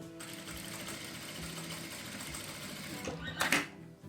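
A sewing machine stitches a seam to close a strawberry-themed fabric bag, giving a steady, quiet mechanical whir with a rhythmic needle patter, ending with a brief clack near the end.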